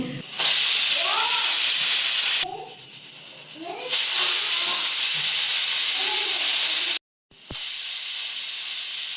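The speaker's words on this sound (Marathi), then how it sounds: "कुकरच्या 3 शिट्ट्या झालेल्या आहेत" A pressure cooker on a medium gas flame cooking tomato rice lets out loud, close bursts of hissing steam whistle, broken by short pauses, with people's voices faintly audible underneath.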